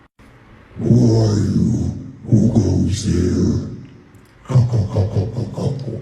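A voice is pushed very low through a hard-tune gender bender effect, imitating a booming Cyclops, and speaks two short lines in slow, heavy bursts with brief pauses between them.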